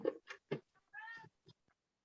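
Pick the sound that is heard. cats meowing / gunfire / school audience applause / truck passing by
cats meowing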